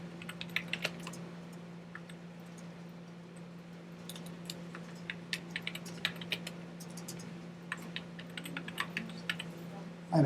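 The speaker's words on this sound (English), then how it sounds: "I'm having trouble typing." Typing on a computer keyboard clicks in quick, irregular bursts of light keystrokes, close and fairly quiet over a steady electrical hum, with a louder knock right at the end.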